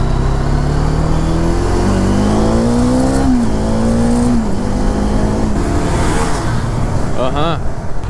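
A 2018 Bajaj Dominar 400 motorcycle rides along a road with 9,200 km on it. The engine drones loud and close and climbs in pitch as the bike accelerates through the gears, with a rider talking over it.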